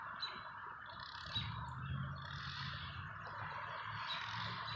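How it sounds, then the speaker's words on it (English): A distant weed whacker in a cemetery whines steadily, its pitch wavering up and down over a low background hum. "it's actually one of the workers here at the cemetery with a weed whacker."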